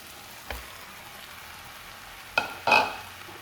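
Potatoes and carrots stir-frying in a pan make a soft, quiet sizzle broken by a few clattering knocks and scrapes of a spatula against the pan.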